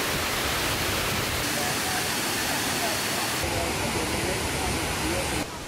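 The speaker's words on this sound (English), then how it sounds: "you will get to the main attraction, which is of course the main Kuang Si waterfall" The main Kuang Si waterfall in Luang Prabang, Laos, roars as a dense, loud, continuous rush of falling water filling the whole stretch close by.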